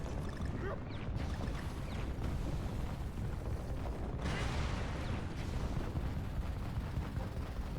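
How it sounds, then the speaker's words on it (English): Fireworks in the Donkey Kong Country game make a dense, continuous crackle and booming rumble, loud and unbroken throughout with a few brighter bursts. "Oh, fireworks, how pretty."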